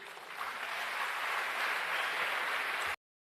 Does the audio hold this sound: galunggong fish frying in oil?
no